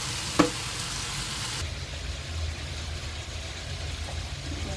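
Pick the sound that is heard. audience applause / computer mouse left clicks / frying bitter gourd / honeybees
frying bitter gourd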